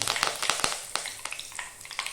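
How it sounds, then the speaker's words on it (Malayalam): Mustard seeds spluttering in hot oil in a pan, crackling with rapid irregular pops and sizzles, close and fairly loud, with no voices. "അതിലേക്ക് 1 സ്പൂൺ കടുകിട്ടു. കടുക് പൊട്ടി വരുന്ന സമയത്ത് അതിലേക്ക് ഒരു എതള് വേപ്പില"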